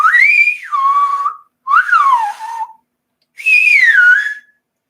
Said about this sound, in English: how can you whistle loud? I mean, because I do it like this too.